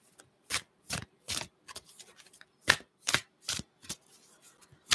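Tarot cards are shuffled by hand in a quiet room, giving a close, irregular series of soft slapping and riffling bursts with short pauses between them.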